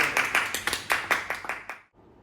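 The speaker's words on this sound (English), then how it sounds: "Round of applause, guys." A small classroom group claps in a short, uneven round, individual hand claps distinct and fairly close, swelling then tapering off and stopping abruptly, followed by a quiet room.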